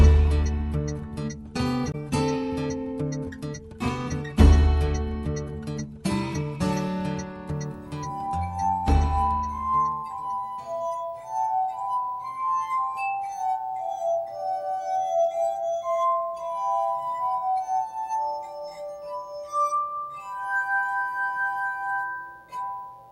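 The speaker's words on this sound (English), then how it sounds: "It's called the glass harmonica" A glass harmonica plays, opening with several resonant struck chords that ring out, then moving into a long, sustained, ethereal melody of singing glass tones without any talk.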